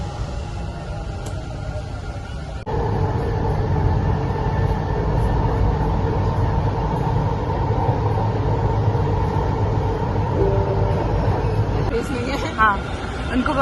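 Steady rumbling of a metro train in a station, its broad roar rising after a couple of seconds and continuing under a murmur of crowd noise.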